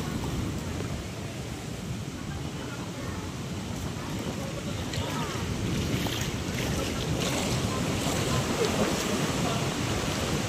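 Small outboard boat engine running out on the sea, a steady low droning rumble with wind buffeting and water wash, constant and close, no talking.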